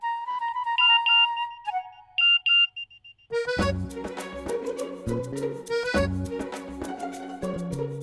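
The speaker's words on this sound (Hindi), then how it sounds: "फोन उठाओ" A phone ringtone plays, starting as a sparse electronic melody and then bursting into a loud, full musical ring with a steady beat.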